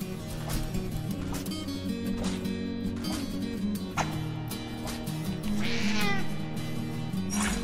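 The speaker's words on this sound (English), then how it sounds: "cat grew up right before my very eyes" A cat in the video game Dwarf Fortress meows repeatedly amid dense game music and effects, its calls fairly clear and close, with one longer, wavering meow near the end.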